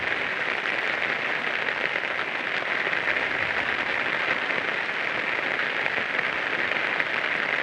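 Heavy rain falling in Chhingchhip, Mizoram, a steady loud hiss of downpour that stays constant throughout with no voices.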